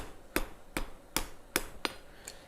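Hammer striking hot steel on an anvil while forging a blunt taper for a sled, five sharp ringing blows at a steady slow rhythm followed by a fainter sixth, close and clear with no talking.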